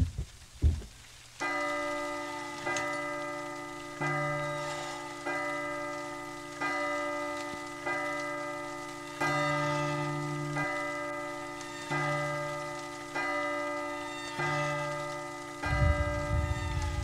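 Chimes in the horror game Unreal PT ring out in a slow, regular series of about ten metallic strikes, each one decaying before the next, over a faint rainy background.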